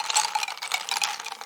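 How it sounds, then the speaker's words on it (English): A spoon stirs creamer into a cup of coffee, giving quick, bright, repeated clinks and light swishing in a steady rhythm, close and fairly loud. "Stir and mix this."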